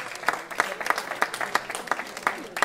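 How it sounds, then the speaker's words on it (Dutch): An audience applauding at a community event, with a steady patter of clapping hands that is moderately near and continuous, and a few voices mixed in. "Dus een mooi applaus ook voor de dames van Zizo"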